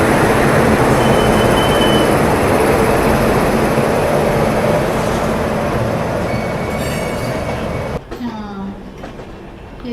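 The Sampoorn Kranti train from Patna to Delhi rolls along the tracks, a loud continuous rumble with wheel squeal and clatter that drops away near the end; someone speaks briefly.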